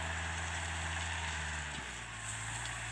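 Four-cylinder Kubota M5000 tractor engine running steadily at idle, a continuous low diesel rumble with a slight dip in pitch partway through, close and alone with no talk.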